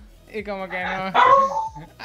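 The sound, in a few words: dog barking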